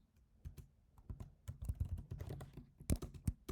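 Fast irregular typing on a computer keyboard, close and fairly quiet, with bursts of clicking keystrokes that speed up and pause, no voices.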